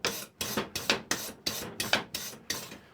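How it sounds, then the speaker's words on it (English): A wire brush scrubs an aluminium alloy VW engine sump in a garage, eight rhythmic rasping strokes in one direction, each a sharp scratchy burst with short gaps, close and clear with no talk. "When you're wire brushing as well, you don't wire brush like that because that rubs the oxide into the aluminium."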